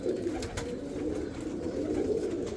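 Teddy pigeons cooing in low, continuous murmuring coos, several birds close by.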